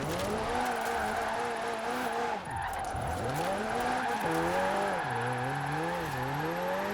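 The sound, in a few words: car driving in video game Forza Horizon 4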